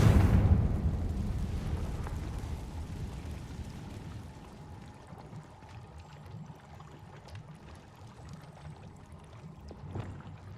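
Confringo blasting curse in Hogwarts Legacy: a loud, close explosion bursts at the start, then fades into a long rumbling, crackling tail over about ten seconds, with a faint thump near the end.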